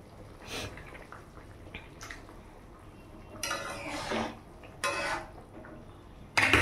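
Pieces of fried hilsa fish slide into a pot of thin simmering curry, with soft clatters, splashes and utensil knocks against the pot coming in several separate bursts, close by and growing louder toward the end.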